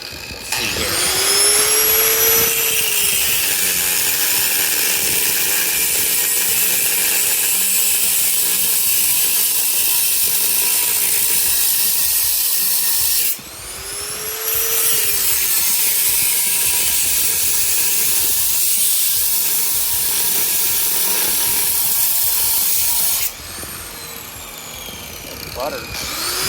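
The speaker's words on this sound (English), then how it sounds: "Already got the grinder plugged in. No guard on it." Angle grinder run without its guard, cutting during a cheap slip-on exhaust fit on a Honda Navi: a loud, steady high whine and hiss that runs long, briefly dips around the middle and again near the end, with a spin-down sweep at each start.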